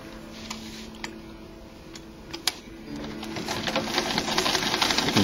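A sewing machine stitches a shirt collar with a rapid, ticking mechanical rhythm that builds in loudness toward the end. A few sharp clicks are mixed in, and no one speaks.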